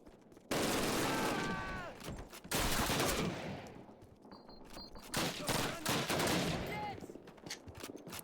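Call of Duty (2003) firefight: loud, rapid automatic bursts and single shots crack close by in repeated volleys, with short gaps between them and faint voices in the background.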